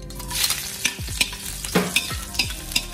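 Minced garlic sizzles in two to three tablespoons of hot cooking oil for chicken adobo, a steady bright frying hiss broken by repeated scrapes and clinks of a stirring utensil against the pan.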